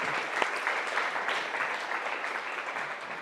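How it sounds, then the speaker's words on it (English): An audience at an International Women's Day breakfast claps in a dense, steady round of applause that carries through the whole stretch, full and fairly close, with no clear voices over it. "A round of applause for you all."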